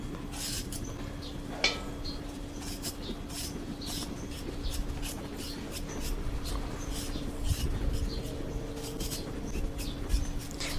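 Potato skin being peeled off in a home kitchen before frying chips, a run of soft, repeated scraping strokes at close range with a faint steady hum underneath and no talking.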